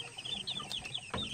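Two- to three-week-old Golden Boy sweater chicks peep and cluck softly nearby in a short run of high chirps, with a faint rustle near the end.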